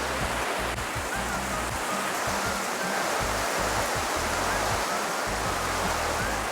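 A steady, dense roar of heavy rain from a record downpour pours continuously at high volume, broadband and unbroken, with faint low rumbles underneath.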